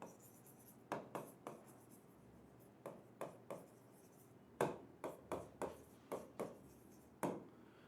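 Pen strokes writing accounting worksheet entries, about a dozen short, quiet scratchy bursts in an irregular rhythm with brief pauses between, close and alone without talk.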